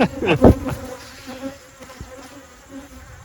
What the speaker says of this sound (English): And you're just covered with bees.